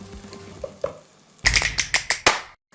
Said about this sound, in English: I'm just going to let this fry for a while before we add in the next ingredient.